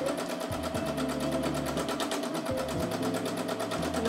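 A sewing machine stitching free motion embroidery on a fabric sandwich with batting, running a fast, steady mechanical whir with rapid needle ticking, close and continuous, its pitch shifting slightly as the speed changes.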